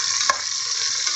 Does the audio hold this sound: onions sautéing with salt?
yes